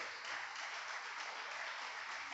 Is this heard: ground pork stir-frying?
no